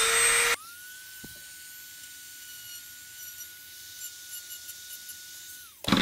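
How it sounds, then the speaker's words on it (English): A Dremel rotary tool with a small grinder attachment grinds rivet heads off a plastic power antenna housing from a 1987 Buick Grand National, a steady high whine held for about five seconds after a brief louder noise, close and alone. "get my Dremel out and try to use a small grinder attachment to grind the heads of the rivets off without damaging the plastic housing"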